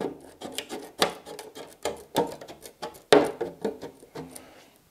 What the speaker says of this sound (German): Jetzt schneide ich nochmal den feineren Schnitt an der Karosserie entlang